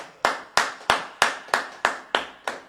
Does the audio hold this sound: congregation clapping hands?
yes